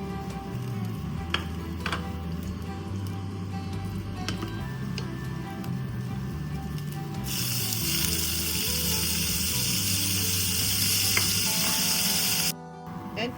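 Beef strips for Swiss Geschnetzeltes fry in a hot pan with a steady, close sizzle that grows noticeably louder and brighter partway through, then cuts off sharply near the end.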